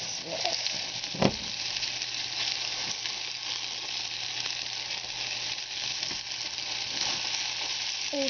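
Pan pizza fries in olive oil with a continuous close sizzle and crackle, broken by a sharp utensil knock early on and a few light scrapes.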